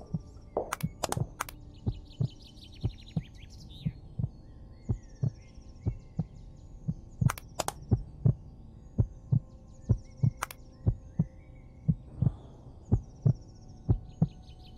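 A steady heartbeat thumps in the Five Nights at Treasure Island Lost One remaster horror game, beating at a regular pulse of roughly one and a half per second, with faint high chirping tones drifting above it.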